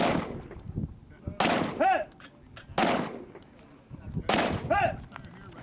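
Pistol shots ring out at an outdoor shooting competition, with sharp cracks followed by metallic pings as small steel pepper popper targets are hit, three distinct strikes spaced about every one and a half seconds.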